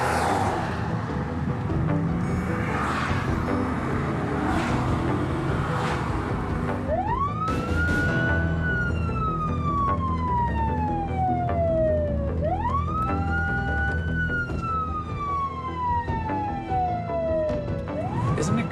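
A police car siren sounds during a pursuit, first a rapid yelp under road noise, then a loud, close wail that sweeps up and slowly down twice, with engine rumble steady underneath.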